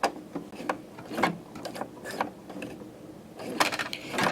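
Nearby, a sewing machine stitches a button on with quick, uneven bursts of mechanical clicking and whirring, with short pauses between them.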